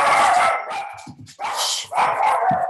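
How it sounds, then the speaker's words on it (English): Several pet dogs barking excitedly indoors at home, loud close bursts of barks and yips in quick uneven runs with brief gaps between them. "my dogs are going crazy because Cole must be home"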